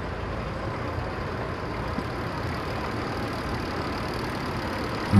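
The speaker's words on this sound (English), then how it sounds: "here's another very old Fergie, probably diesel 4-cylinder, pretty ancient" An old Ferguson four-cylinder diesel tractor engine chugs and rumbles steadily at moderate distance, a low continuous drone without talk.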